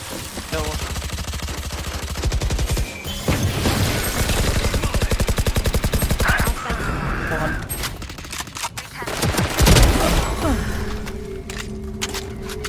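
Rapid automatic gunfire and explosions in a tactical shooter video game, dense bursts and a heavy boom near the end, loud, with players talking over the action.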